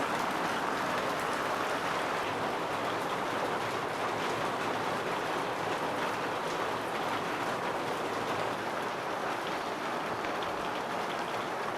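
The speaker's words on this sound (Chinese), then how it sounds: "好大的雨哟" Heavy rain pours down steadily for the whole stretch, a dense, even hiss of drops drumming on surfaces nearby, loud and unbroken, with no voices.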